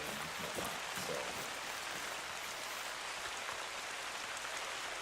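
Steady, soft rain hisses evenly throughout in Hunter: Call of the Wild, a faint, constant wash of falling drops with no other clear sounds.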